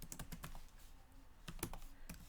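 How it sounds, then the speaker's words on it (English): Fingers type on a computer keyboard while entering a Java hello world program, irregular quick key clicks in short bursts, close and fairly quiet. "let me type it again"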